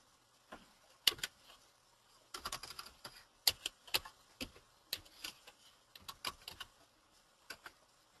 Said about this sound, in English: So I can also type like this.